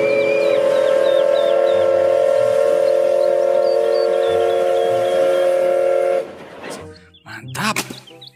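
A reedy Thomas toy train whistle holds a steady, slightly warbling tone for about six seconds, then gives way to a few short clunks and clatters.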